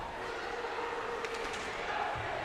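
A student section crowd roars steadily through a girls' high school hockey game between Stillwater and Hill-Murray, a dense wash of cheering and chatter that barely rises or falls.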